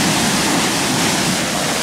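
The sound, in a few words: lake water rushing down an irrigation ditch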